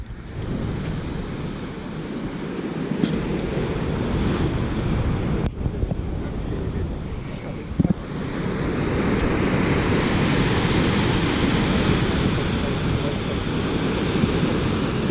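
Gentle ocean waves at Pacifica Pier in December, a steady broad wash of surf with a wind rumble on the microphone, continuous and fairly loud, with no voices.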